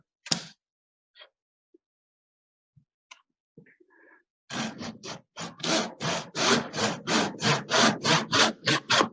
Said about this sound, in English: using my crosscut fine tooth, 16 teeth per inch, I line it up.